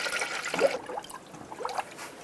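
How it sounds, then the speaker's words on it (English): Diluted 50-50 antifreeze being poured into a spill-free funnel during a radiator replacement on a 2003-09 Toyota 4Runner, a soft, steady trickle and gurgle of liquid, fairly faint, without talk. "I'm going to fill it with 50-50 pre-diluted antifreeze"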